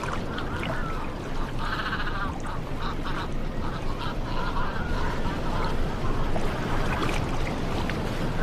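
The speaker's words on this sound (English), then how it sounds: "The young cormorants quarrel over the catch." Young cormorants squabble over caught sardines on the Omani coast, giving harsh, repeated honking and croaking calls over a constant loud wash of water and ambient noise.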